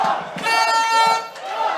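Football supporters at a Slovenian third-league match keep up a loud, sustained roar of cheering and chanting, with a steady horn-like tone running through the crowd noise.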